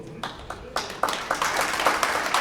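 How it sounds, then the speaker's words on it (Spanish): A church congregation claps for their Lord in a Spanish-language service, the applause building from scattered claps into a fuller, uneven round, with voices mixed in. "le demos un grande aplauso a nuestro Señor"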